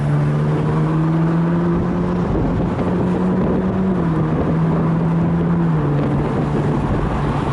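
A Ferrari 458 Italia on a highway test drive hums steadily from inside the cabin, its engine note rising and falling slightly with throttle, loud and continuous with road noise underneath.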